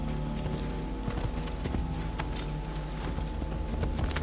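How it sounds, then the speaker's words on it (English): A summoned horse in the game Assassin's Creed Brotherhood trots with a steady clip-clop of hooves, close and continuous over ambient game sound with a faint bed of music. "Call a horse in the process."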